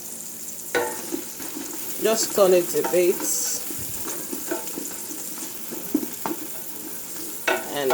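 Vegetables sizzle and crackle in a hot pan while being stirred with occasional scrapes, and a person speaks briefly over the frying.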